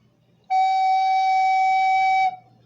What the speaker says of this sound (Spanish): Ya sabemos que el fa sostenido grave es así,